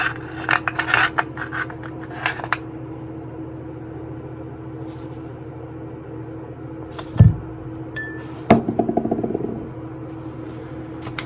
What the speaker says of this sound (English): Then you can just pull the bolt out.